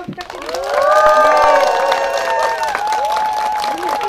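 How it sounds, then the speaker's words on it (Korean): An audience at a floral design lecture and invited flower-art exhibition claps and cheers, with excited whoops and shouts rising over steady clapping that swells near and loud, then carries on. "그러면 다시 한번 박수 한번"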